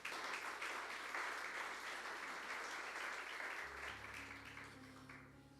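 Dense, steady applause from a church audience during a sermon fills the space for several seconds, then fades slightly as sustained keyboard tones come in underneath.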